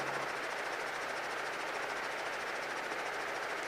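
A training helicopter's engine and rotors roar loudly and steadily as it builds power toward a hover, with a dense, constant drone and faint rhythmic pulsing.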